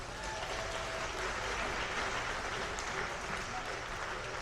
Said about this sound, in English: Victoria, give her a clap, please.